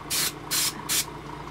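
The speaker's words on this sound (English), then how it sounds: "And I'm just going to spray down a little bit to make sure the next color goes." Three short, evenly spaced hissing bursts from an aerosol can spraying iridescent electric blue paint onto custom Nike Air Force 1 sneakers, close and clear with quiet pauses between.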